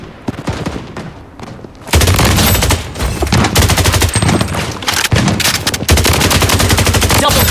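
Loud, sustained automatic gunfire from the Bloodstrike shooter video game rattles on almost without pause, with heavy overlapping bursts and a few booming impacts close up.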